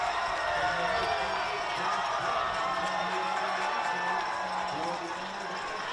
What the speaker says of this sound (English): the Emery crowd goes wild